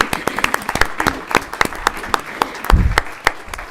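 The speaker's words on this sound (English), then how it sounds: "I think that's worthy of a round of applause" Audience applause fills a school board meeting room, a steady patter of many hands clapping at moderate distance with a brief low thump near the end.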